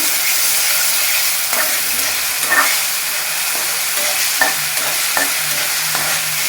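Ginger garlic paste fries in oil for tomato rice, a steady close sizzling hiss with occasional clacks and scrapes of stirring, no voices.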